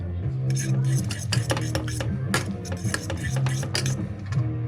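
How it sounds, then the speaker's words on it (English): Nissin UFO yakisoba instant noodles with katsuo dashi sauce being stirred, with repeated close clinks and scrapes of utensils against the container in a busy, steady rhythm, mixed with a low background hum. "I'm going to give this another stir and give it one more taste"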